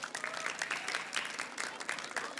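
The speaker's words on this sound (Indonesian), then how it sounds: "seluruh hadirin yang hadir di tempat ini, tepuk tangan. Yang meriah" An audience claps and cheers at an outdoor Ramadan Tabligh Akbar gathering in Purwakarta, a steady, bright wash of applause lasting throughout.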